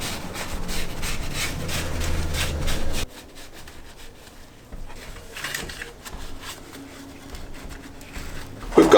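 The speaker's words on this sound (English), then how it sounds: "Just a bit of brake cleaner or something like that on a cloth." Cloth soaked in brake cleaner wiped across a BMW E36 M44 rocker cover, a close, steady rubbing and scrubbing that stops abruptly partway through, then resumes more softly with scattered handling noises.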